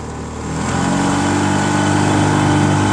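A tiller-handle outboard motor builds speed in a steady, loud, close drone that swells during the first half second and then holds a strong, even engine tone with no talk over it.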